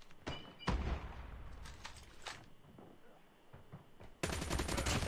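Gunfire and sniper shots ring out in a tactical shooter match on a broken-wall map, sharp cracks and bursts spaced across the moment, ending in a dense loud volley, with players talking at times.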